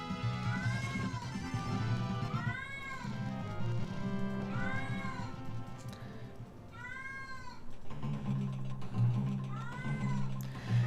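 Repeated cat meows in the video game Final Fantasy V, about five drawn-out rising-and-falling cries over a steady low music bed, no talk.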